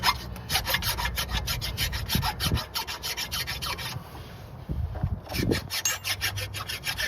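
A metal file smooths the wheel bearing hub mounting surface of a 2014+ Jeep Cherokee front end with rhythmic, close rasping strokes that pause briefly before starting again.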